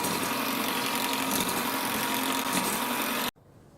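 An electric mixer beats eggs, sugar and oil at low speed, a loud, steady whirring buzz that runs without break, then cuts off abruptly just before the end.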